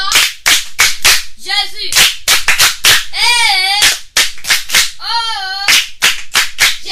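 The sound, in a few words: children's audience applauding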